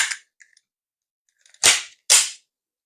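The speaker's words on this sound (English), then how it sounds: "To put it back together, you do that in reverse" A Glock 19 Gen 5 pistol being put back together, with faint small clicks followed by two sharp, close metallic snaps of the slide going onto the frame.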